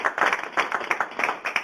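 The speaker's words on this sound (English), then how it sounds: "Give Tim a round of applause." Brief round of audience clapping for presenter Tim Frankenberger after his talk, a short burst of scattered claps from a small group, close and moderately loud, without voices.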